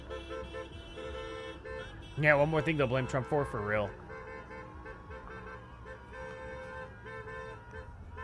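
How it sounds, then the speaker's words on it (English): Car horns honk in a quick cluster of blaring toots during a street protest over immigration enforcement in Minneapolis, heard loud and mid-distance, while someone comments before and after over a background of street noise. "They could just be honking in solidarity, too."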